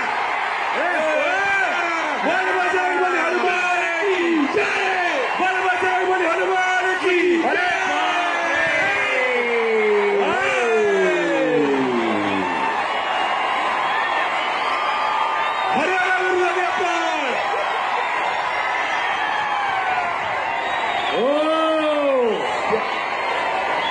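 A crowd at an open-ground kusti wrestling bout cheers, whoops and claps, with a commentator's voice sliding and bellowing loudly over the steady roar throughout.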